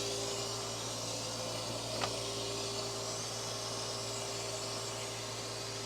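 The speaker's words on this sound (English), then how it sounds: "Then turn off the vacuum." Shop vacuum running steadily after walnut shell blasting of intake valves on a BMW 335xi engine, a constant whooshing drone with no talk and one brief click partway through.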